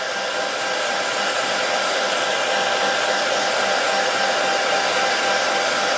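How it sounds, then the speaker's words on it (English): A handheld blow dryer runs steadily at full power, a loud continuous whoosh with a faint motor whine, drying freshly cleaned Singer 201K sewing machine bobbin winder parts to prevent flash rust; no voices. "And this blow dry prevents flash rust."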